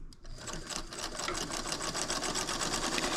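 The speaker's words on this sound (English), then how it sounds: "I'm going to sew all the way around, removing my pins as I go." Sewing machine stitching steadily around the edge of a pieced baby blanket: a fast, even mechanical whir-and-tick rhythm, close and continuous after a brief start.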